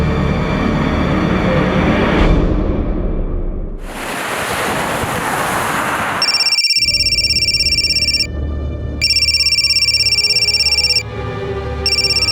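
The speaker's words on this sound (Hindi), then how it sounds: "आपका फोन बहुत बज रहा है।" A telephone rings in repeated electronic bursts, with short gaps between rings, following a loud rushing whoosh and steady low background noise.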